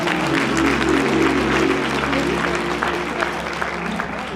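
A church congregation applauds steadily during a Sunday morning service in Petersburg, Virginia, a dense, sustained wash of clapping that fills the room and tapers slightly toward the end, with voices mixed in.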